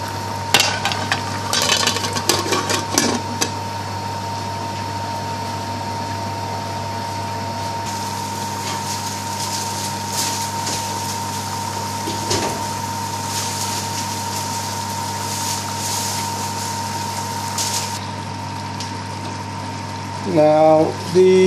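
Steady low bubbling and simmering of water with potatoes in a pot, a continuous hiss with faint clinks near the end.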